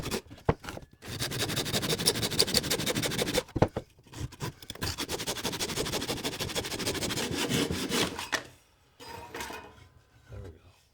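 Rhythmic back-and-forth hand sawing through a wooden block for a bevel cut, a rasping scrape in steady strokes with brief pauses, ending with a few lighter strokes.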